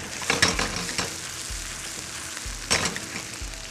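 Shrimp and onion are stir-fried in chili sauce in a hot pan, with a steady sizzle running throughout and a few sharp scraping bursts from the spatula, close and fairly loud, and no voices.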